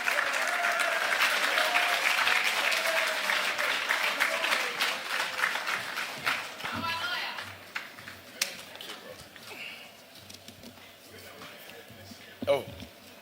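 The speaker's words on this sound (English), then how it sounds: "Our keynote speaker, a round of applause." A conference audience at a national mining dialogue applauds to welcome the keynote speaker, loud dense clapping at first that thins out and fades over the seconds, with scattered softer claps and murmurs near the end.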